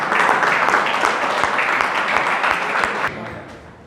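Audience applause at a ceremony honouring diversity and inclusion, with guests receiving gifts. A dense, steady wash of clapping holds for about three seconds, then thins and fades.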